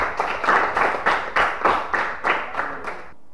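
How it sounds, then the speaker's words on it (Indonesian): Children in an elementary classroom clapping hands together in a rhythmic pattern, about a dozen loud, evenly spaced group claps close by, ending abruptly in near silence. "Tepuk tangan dulu buat temanya nih."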